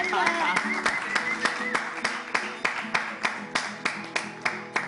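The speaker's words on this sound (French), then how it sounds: "Est-ce qu'on peut applaudir" Rhythmic clapping builds into steady applause, with a voice speaking over it at first.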